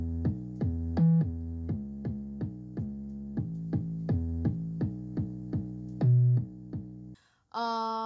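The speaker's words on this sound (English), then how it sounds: "This is a Flex preset. It's an 808 synth clean." A clean 808 synth preset in FL Studio's Flex plugin plays a repeating bass pattern of short, pulsing tonal notes with a few longer held notes, steady and prominent, ending abruptly before a brief different sound.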